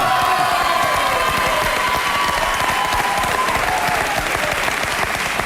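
Sustained applause from a studio audience at a French TV quiz show for grandes écoles students, a dense, even roar of many hands clapping alone for several seconds with no voices.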